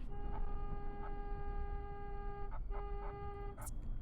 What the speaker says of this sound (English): That's right, you honk at that guy.